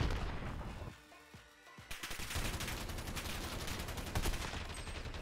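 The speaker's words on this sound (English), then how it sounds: "Oh, single and fully auto shots." Gunfire in the video game Modern Warfare, a 2v2 alpha match: dense, loud bursts of single and fully automatic shots, dipping briefly near the start before resuming as continuous rapid fire.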